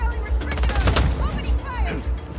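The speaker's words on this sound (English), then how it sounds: "Opening fire." Rapid bursts of automatic gunfire in the open-world action game Just Cause 4, loud and close, with voices talking over the shooting.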